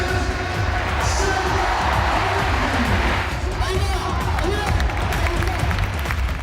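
A crowd cheers and applauds at a Spanish bull-leaping arena, a continuous roar of voices and clapping beneath someone talking over it.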